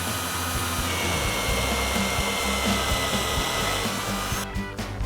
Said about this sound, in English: it's also going to help you with drilling your pilot holes